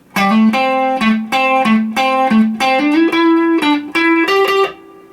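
A bright electric guitar lick of about a dozen clean, distinct notes in a quick, uneven rhythm, close and loud, rising gradually in pitch, then a final held note.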